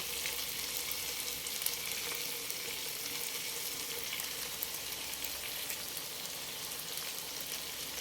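Sprite chicken wings frying in a pan with oyster sauce, a dense, even crackling sizzle that runs steadily throughout, close and moderately quiet, with no talking.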